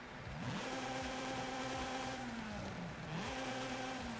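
Rotary-engine car in Forza Horizon 5 droning at a steady buzzy idle-to-mid rev, with a couple of brief dips and rises in pitch as it blips, loud and close with no talking.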